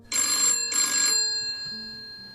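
An old-style telephone bell rings loudly in two close bursts, then a fading tone lingers quietly afterward.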